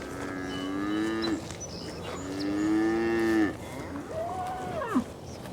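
A cow on pasture gives three long, loud moos in close succession, each a drawn-out low call with a slight rise at the end, and no other sounds compete with them.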